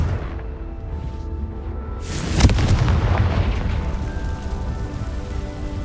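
Confringo blasting spell explodes in Hogwarts Legacy: a sudden loud boom about two seconds in, following a quieter stretch, then a dense crackling, rain-like debris wash and rumble that lingers to the end with faint tonal game music underneath.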